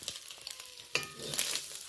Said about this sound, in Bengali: একটু হালকা করেই চিংড়ি মাছটা ভেজে নেব